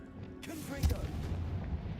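The Confringo explosive spell goes off in the wizarding game Hogwarts Legacy, a deep booming blast that swells and rumbles on heavily for a couple of seconds, with a voice faintly mixed in.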